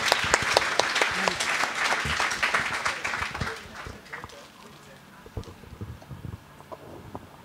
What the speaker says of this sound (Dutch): Hartelijk applaus voor jullie.